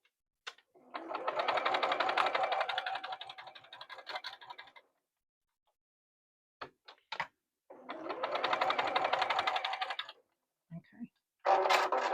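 Sewing machine stitching a Churn Dash quilt-as-you-go block, running in two steady bursts of several seconds each, with short clicks and handling noises in the pause between them and after.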